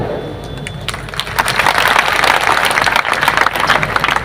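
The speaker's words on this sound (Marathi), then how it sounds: "आपल्याला पटलं म्हणून आपण टाळ्या वाजवल्या" Crowd applause at a Hindu community protest rally in Bhokardan, with a broad wash of clapping that swells in after about a second and keeps going steadily, loud and close.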